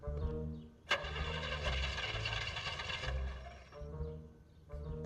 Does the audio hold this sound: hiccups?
no